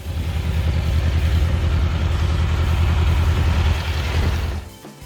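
A Model 81 mini tractor engine hums steadily on a farm, its low, even drone running near and loud for several seconds before easing off at the end.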